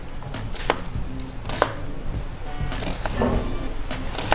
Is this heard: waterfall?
no